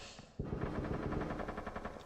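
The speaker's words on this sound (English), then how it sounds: "Lots of fire connecting, it's just a whole bunch of wall bangs." Rapid automatic gunfire in a competitive shooter video game, fired through walls. A dense, fast rattle of shots sets in sharply and keeps going without letup, with no talking.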